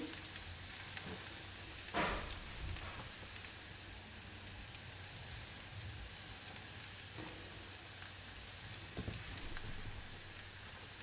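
Bread frying in a pan over garlic, a steady close sizzle and crackle of hot oil running throughout, with a few louder pops and spits.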